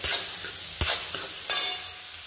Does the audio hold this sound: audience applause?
no